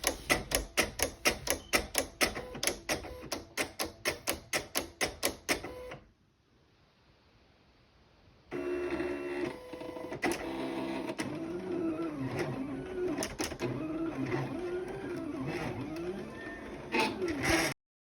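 A vinyl cutting machine cuts heat transfer vinyl for a custom hat and hoodie. It starts with a fast, regular series of sharp mechanical clicks, falls silent briefly, then gives a continuous whirring, rattling motor sound with scattered ticks.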